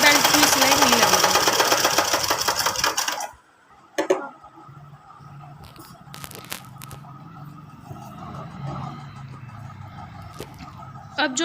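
A sewing machine stitches a lehenga seam with a fast, loud, close mechanical rattle for about three seconds, then stops; faint ticking and handling noises follow in a quiet room.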